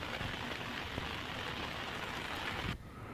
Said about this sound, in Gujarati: જૂનાગઢના કેશોદમાં પણ ધોધમાર વરસાદ વરસ્યો